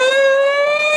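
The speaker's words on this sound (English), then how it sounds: "When you hear a siren, you can help by pulling your car quickly to the curb and stopping" A loud, steady siren wail from a police car holds a sustained pitch close up, sounding alone with no voices over it.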